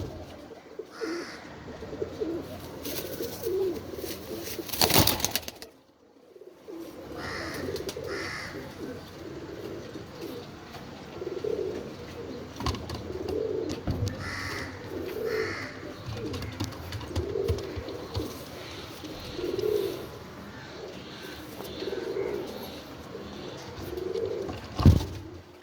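French breed pigeons cooing close by in repeated soft rhythmic bursts, with occasional flutters and a brief clatter among them.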